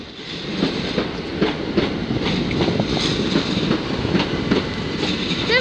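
An electric train, a Class 375 unit, rolls into a station with steady rumbling and rhythmic clicking of wheels over rail joints, continuous and fairly loud throughout.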